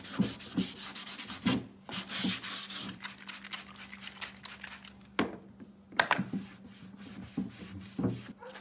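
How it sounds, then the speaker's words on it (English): Sanding lacewood furniture by hand, a dry, steady rubbing and rasping with repeated strokes and brief pauses, close and fairly loud, with a low hum underneath. "So all of this needs to be sanded down yet."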